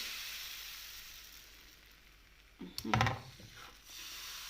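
A loud sizzling hiss bursts up as blini pancake batter hits a hot frying pan, crackling briefly before settling into a steady frying sizzle.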